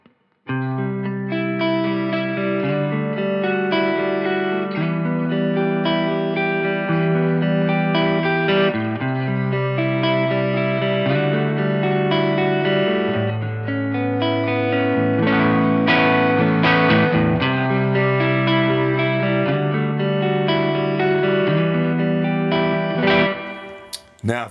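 Electric guitar played through a Laney Ironheart amp plugin with reverb, sustained chords and melodic notes ringing out continuously with a slightly broken-up tone and spacious ambience, loud and alone.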